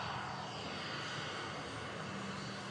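A Corendon Boeing 737 airliner arrives with a steady, fairly distant engine roar that holds evenly across the whole stretch, with no talk over it.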